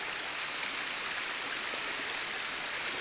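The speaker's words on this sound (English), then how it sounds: "there's a cute little waterfall" A small waterfall just north of Hvammstangi, Iceland, pours in a steady, even wash of rushing water, close and continuous with no voices.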